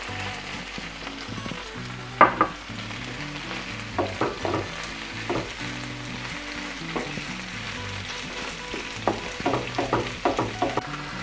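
Ground meat sizzling in a pan with softened onions, a soft steady fry with scattered pops and stirring scrapes, close and moderately quiet with no voices.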